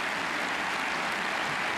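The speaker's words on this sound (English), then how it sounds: "they've clapped almost every shot in this break" A snooker crowd at the 2024 German Masters semi-final applauds a shot, giving a steady, dense wash of clapping that holds evenly throughout, fairly close and with no voices over it.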